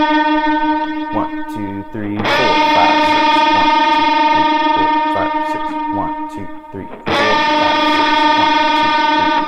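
An electric guitar played through a Helix multi-effects unit bends a string on beat four of a 6/8 worship song, swelling into a loud, sustained distorted chord that repeats, while a voice counts the beats throughout.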